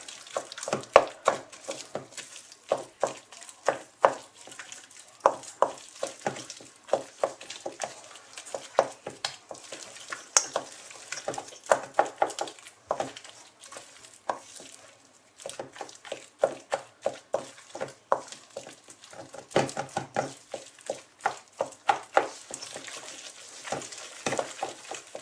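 A spoon working egg into a choux pastry panade in a pan, with irregular wet slapping and scraping strokes repeating steadily, close and moderately loud, with short pauses between bursts.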